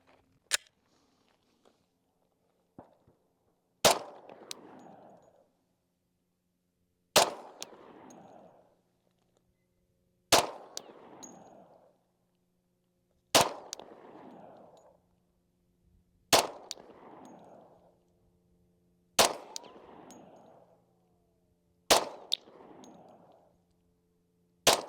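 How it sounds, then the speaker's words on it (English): A Glock 40C pistol fires eight slow, evenly spaced shots at a range, each a sharp loud crack with a short echoing tail, about three seconds apart, with no talk between them. "I'm gonna shoot nice and slow on this one."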